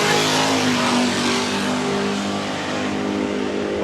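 Drag racing cars at Carolina Dragway, a loud sustained engine roar with a steady droning pitch that eases slightly midway and swells again near the end, no talk over it.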